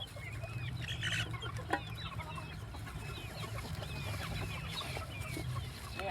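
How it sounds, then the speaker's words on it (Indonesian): Free-range village chickens, four months old, clucking and chattering in a busy, continuous flock, with overlapping calls near and far over a low steady background hum. "Ini ayamnya sangat agresif ya teman-teman semuanya."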